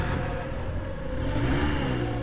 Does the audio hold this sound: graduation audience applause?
no